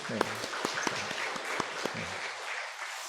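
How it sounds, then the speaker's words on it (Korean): A church congregation applauds the choir and instrumentalists at a Korean Sunday morning worship service. The clapping is moderately loud with distinct individual claps, and a voice speaks over it early on. "하나님께 다 영광의 박수를 한번 돌려드리죠"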